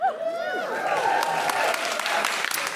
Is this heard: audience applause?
yes